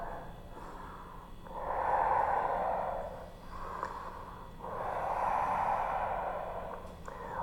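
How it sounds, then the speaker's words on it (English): Slow, deep breaths are drawn during a yoga lunge, two long airy inhale-exhale swells close to the microphone with quiet pauses between them and no talking. "Always breathing deep."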